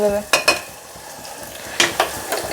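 Ginger garlic paste frying in a pan is stirred, with a few sharp spoon scrapes and clinks over a soft, close sizzle.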